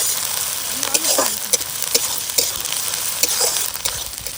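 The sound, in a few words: frying onion with ginger garlic paste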